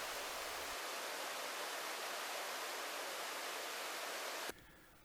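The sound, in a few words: Gucheon waterfall in Gucheondong valley, Deogyusan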